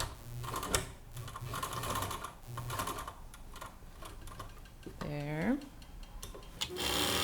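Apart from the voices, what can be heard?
sewing machine stitching a tote bag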